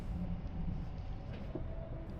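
Britain's new intercity train runs toward London Marylebone station, giving a steady low rumble of wheels and carriage noise from inside the train, with no speech.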